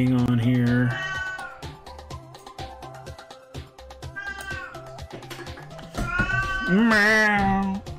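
A cat meows several times, drawn-out and whiny, with a louder, rising cry near the end; a person speaks softly in between.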